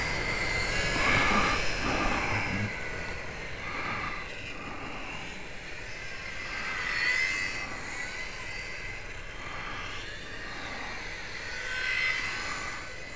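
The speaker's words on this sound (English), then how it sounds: "this is the little FlyZone PlayMate" A small FlyZone PlayMate radio-controlled model airplane flies on a calm, windless day, its steady buzzing motor whine drifting and swelling as it passes nearer and farther, with no talk.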